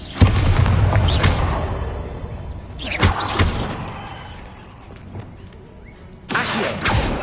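Blasts from the Bombarda explosion spell in the video game Hogwarts Legacy: three heavy booms at roughly three-second intervals, each a loud crack with a rumbling tail that fades between hits.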